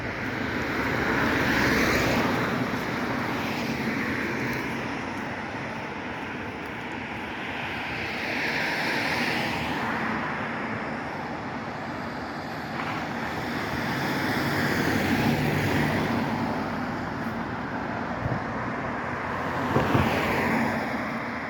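A steady, loud rush of cold wind on a mountain roars across the whole stretch, swelling and easing in gusts, with no voices.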